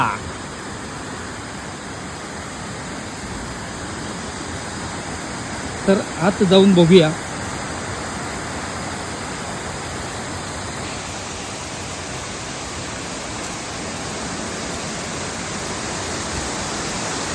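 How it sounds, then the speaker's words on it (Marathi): The Ozarkhol waterfall beside a village temple roars as a constant broad rushing wash, loud and unbroken, while someone speaks briefly partway through. "आणि बाजूलाच असणारा धबधबा"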